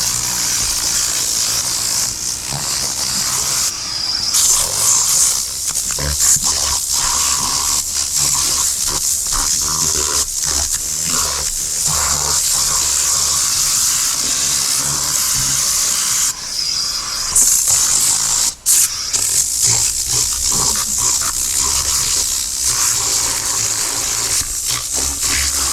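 Air compressor blowing air during interior detailing of a 2020 Honda Fit, a loud, continuous broadband hiss that sputters and pulses with frequent brief dropouts and restarts over nearly half a minute.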